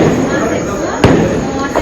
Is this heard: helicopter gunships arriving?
no